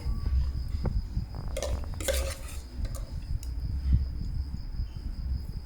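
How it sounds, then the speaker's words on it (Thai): Spoon scraping and clinking against a dish while larb with lin fa is scooped onto a plate, a few soft metallic taps and scrapes over a steady low background hum, no talking. "เมื่อเรียบร้อยแล้ว ตักใส่จานได้เลย"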